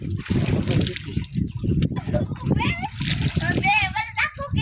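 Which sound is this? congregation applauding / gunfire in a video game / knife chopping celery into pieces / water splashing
water splashing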